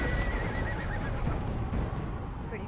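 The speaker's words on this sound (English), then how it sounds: "It's a pretty horse." A horse whinnies in The Elder Scrolls: Legends, a short neigh within steady game sound and background noise, with a voice speaking over it.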